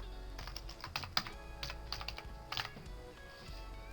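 Quiet keystrokes on a computer keyboard, a quick irregular run of clicks and taps that is soft and close with no talking, ending after a few seconds.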